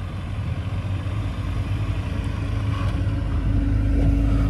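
A Tata Punch engine straining up a sudden steep slope, a low steady drone that builds slightly in loudness as it climbs, close and continuous with no talking.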